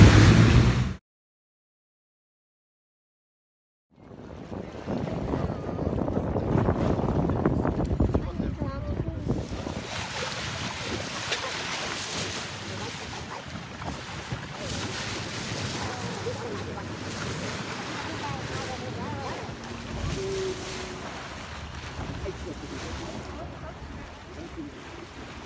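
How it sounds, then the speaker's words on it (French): Sea waves slap and wash around a boat off South Africa, a loud continuous rush mixed with heavy wind buffeting and engine rumble after a brief silent gap near the start. "Et là on est sur l'eau, il y a beaucoup de vagues."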